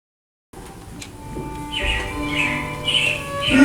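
Robin chirps as an animatronic show effect in Walt Disney's Carousel of Progress at Magic Kingdom: bright, repeated bird calls come in over a soft musical backdrop, growing busier and louder toward the end.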